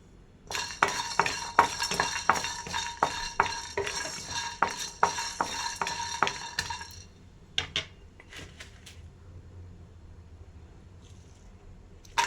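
A spoon stirs cashews in a pan while cooking Andhra style mutton curry, quick metallic clinks against the pan over a soft sizzle, then a few scattered taps as the stirring tapers off.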